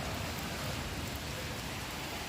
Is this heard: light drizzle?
yes